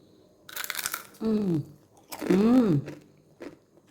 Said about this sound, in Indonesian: Nah ini bakso ikan tapi saya goreng.